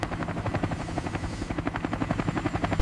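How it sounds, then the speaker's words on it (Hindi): A helicopter flies close by, its rotor chopping in a fast, even pulse of deep beats under a steady engine whine, loud and continuous throughout. "कुछ ही मिनटों के बाद हेलीकॉप्टर सीमा पार कर चुके थे"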